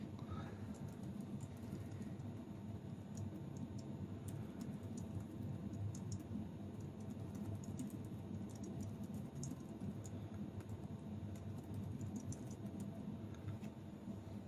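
Continuous clicky typing on a Brydge G-Type keyboard for the Google Pixel Slate, rapid irregular key taps at close range over a low steady background hum, with no talking.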